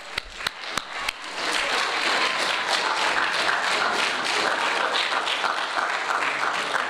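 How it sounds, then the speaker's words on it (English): A round of applause at a pastor appreciation church service, opening with a few sharp individual claps before a steady, dense crowd clapping takes over and holds through to the end. "let's give these people a round of applause"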